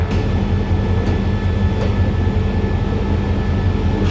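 The Royal Blossom special train rumbles loudly and steadily close by, with a deep droning engine note and faint rail clatter, no voices.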